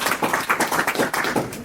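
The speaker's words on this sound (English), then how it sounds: "Round of applause." A brief burst of clapping from a small audience at a school debating competition round, applauding the judges, a few hands beating in a quick uneven rhythm close by.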